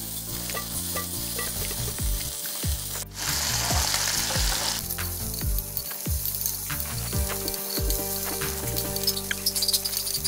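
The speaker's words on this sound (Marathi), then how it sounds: "प्रथम माछ भाजिबा तवा गरम हेसलाणि आसंत तेरे माछ पकाइबा आ भाजिबा" Fish sizzles in hot mustard oil in a pan, a steady loud fry with a sudden burst of hissing partway through, and rhythmic scraping and stirring knocks continue throughout.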